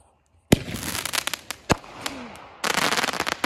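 Consumer fireworks bought for a birthday celebration go off in sharp, loud bangs, with a pause between reports before a dense crackling burst. Faint voices can be heard between the blasts.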